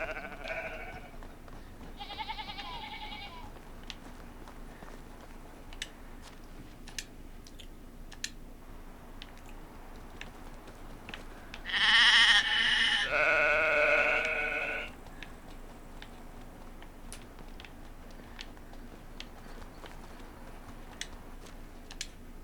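Sheep in the medieval colony-building video game Going Medieval bleat several times in short bursts, with the loudest cluster near the middle, over quiet background ambience and scattered keyboard clicks.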